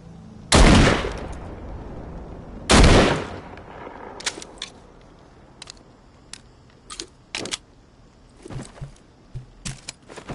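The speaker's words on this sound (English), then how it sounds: "I don't have anything that can really break those planks except this trusty little shotgun here" Two loud, close shotgun blasts from a trusty little shotgun in The Walking Dead: Saints & Sinners, a VR zombie game, each ringing out briefly. Scattered clatters and knocks from wooden planks breaking follow, with no talk.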